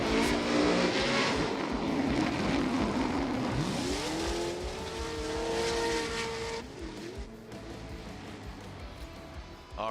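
A Formula Drift pro car at a 2024 Atlanta round roars loudly through a continuous drift, engine revving and rising while tires squeal, then the sound eases as the car moves off.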